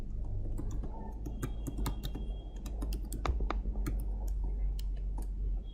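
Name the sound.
typing a password on a computer keyboard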